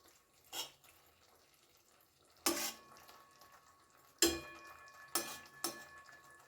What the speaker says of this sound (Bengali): ভালো করে একটু হালকা হাতে মিশিয়ে নেব